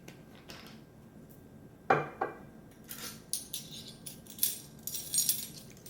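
A spoon clinks against a bowl while a honey, soy, rice vinegar and lime juice salad dressing is stirred, giving a run of light, close metallic taps and scrapes that grow busier toward the end in a quiet kitchen.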